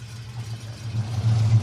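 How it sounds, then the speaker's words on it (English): A Jensen Interceptor's V8 engine idles with a deep, low burble, a steady rumble that swells a little louder toward the end, close and alone. "fires up the V8 and what a burble, what a noise"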